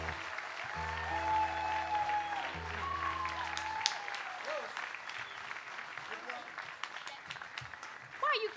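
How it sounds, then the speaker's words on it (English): An Opry audience applauds at a country music show, a broad wash of clapping that starts under sustained band chords and then continues on its own, moderately loud and fading slightly, with voices briefly heard over it. "Why are you clapping at me?"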